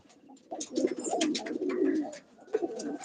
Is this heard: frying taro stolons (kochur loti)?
no